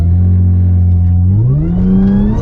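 A supercharged Audi S4 with fire damage holds a loud, steady, deep engine drone close by at launch-control revs, then the pitch sweeps upward as the revs climb.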